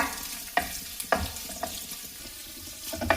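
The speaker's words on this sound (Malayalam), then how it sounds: "മുട്ടയുടെ വെള്ള പാർട്സ് ചേർക്കാം. ഇത് ചെറുതായിട്ടൊന്ന് വഴറ്റിയെടുക്കണം." Boiled egg white pieces being sautéed over medium flame, a soft continuous sizzle broken by several sharp spatula scrapes and clacks against the pan at irregular intervals, close and fairly quiet.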